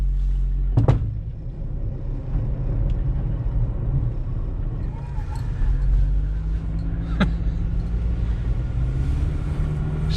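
An old $500 hooptie car is driven with a low, steady engine rumble and road drone, a couple of sharp knocks, and faint voices in the background.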